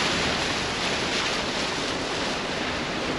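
A dense, unbroken roar of rushing flash flood water after heavy rain, loud and constant throughout with no voices.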